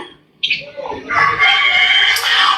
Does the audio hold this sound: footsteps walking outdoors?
no